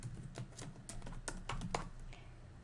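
Rapid keystrokes on a computer keyboard as an event name is entered, a close, steady run of crisp clicks with uneven spacing and no talking.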